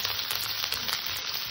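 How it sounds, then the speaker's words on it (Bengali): Chopped onions lightly frying in a pan for a fish curry with potato and eggplant give a brief, dense, even sizzle, close and steady, with no talking. "পেঁয়াজটাকে একটু হালকা ভেজে নেব।"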